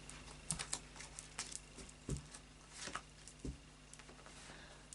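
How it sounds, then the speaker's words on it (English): Moonology Oracle cards being shuffled, soft irregular papery taps and flicks spaced unevenly, quiet and close, with a faint low hum underneath and no speech. "I'll just do a final shuffle now of the Moonology Oracle cards"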